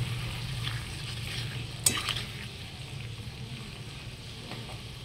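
Potatoes for a Bengali fish curry sauté in a covered pan, giving a soft continuous sizzle with one sharp utensil clink partway through and no talking.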